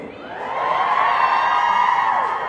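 A live audience at an event claps and cheers, swelling quickly into a dense, sustained roar of applause and whoops heard from nearby.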